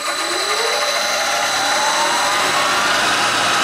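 A milling machine spindle driven by a VFD runs wide open, a loud, steady motor whine that rises in pitch as it spins up, close and continuous throughout.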